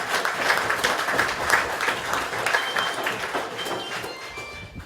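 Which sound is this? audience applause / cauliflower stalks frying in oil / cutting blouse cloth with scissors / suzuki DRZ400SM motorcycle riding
audience applause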